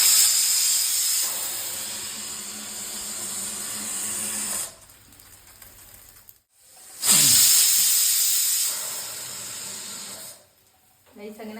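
A pressure cooker with beef roast inside lets out two long, loud hissing whistles separated by a quiet gap, each sharp steam blast cutting off abruptly.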